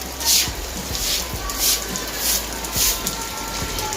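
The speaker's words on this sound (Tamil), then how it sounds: "இப்போ செம்ம மழை வருது." Heavy rain pouring steadily in a continuous loud hiss, with rhythmic swells about every half second and no voices heard.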